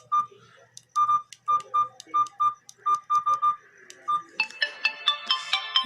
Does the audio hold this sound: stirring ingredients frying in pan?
no